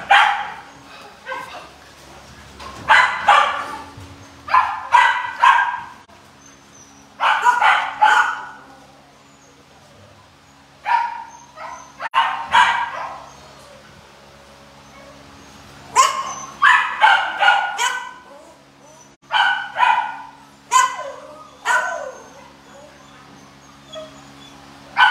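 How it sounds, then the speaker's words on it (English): Dogs at an animal shelter bark in repeated loud bursts, several voices yapping and whimpering in clusters with short gaps, heard up close over a low background hum. "We need you for these dogs here."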